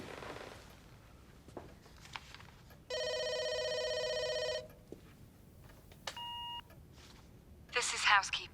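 A telephone is dialed amid a power outage in a building complex: a long steady tone, then a short electronic beep pair and a brief burst of keypad tones, with quiet background between.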